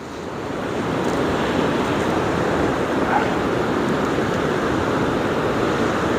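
Ocean surf pounds at an estuary mouth under a strong southeasterly wind, a loud, dense, continuous roar of breaking water with heavy wind buffeting on the microphone.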